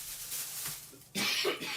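A couple of close, harsh coughs burst out after a quiet stretch, loud and breathy, with nothing else around them.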